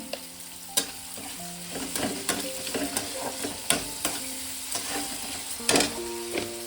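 Chopped tomatoes with salt frying in a pan, stirred with repeated sharp spoon clinks and scrapes over a constant sizzle, close up with no talking.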